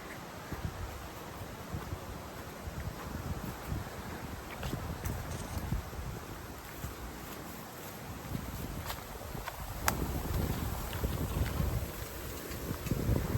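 Steady, roaring wind on a mountain hike buffets the microphone throughout, a dense rumbling gust noise with no pauses or voices.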